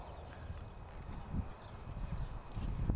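Pony hooves clip-clop in a loose, uneven rhythm on ground, fairly close and moderately loud, with a firmer cluster of strikes near the end.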